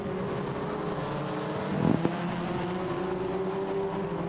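Touring race cars circling the Assen circuit, a steady engine drone at middle distance with a short louder swell as cars pass, no talk.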